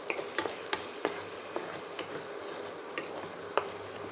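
Repeated light scrapes and taps of a spoon against a pan as ginger and green chilli paste is mixed into a paneer kofta mixture, over a steady low sizzle.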